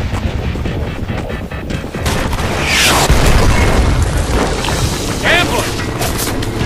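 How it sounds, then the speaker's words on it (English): Loud rocket-propelled grenade blasts in the Homefront first-person shooter, booming over dense gunfire and battle noise with shouted voices mixed in. "RPG, second floor!"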